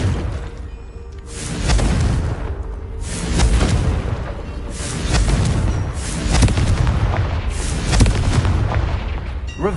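A Confringo blasting spell fired in a wizard video game: a series of deep, booming explosions roll out in waves every couple of seconds, loud and heavy with low rumble.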